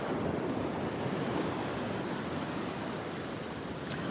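Surf washes steadily onto Legian beach in Bali, a broad, continuous rush of breaking waves with no voices over it.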